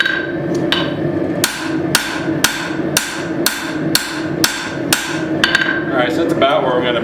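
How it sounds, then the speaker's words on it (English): Hammer blows forging a tomahawk head on an anvil, about a dozen sharp metallic strikes in a steady rhythm roughly every half second, loud and close, with ringing decay after each hit. "Forge a little bit on both sides."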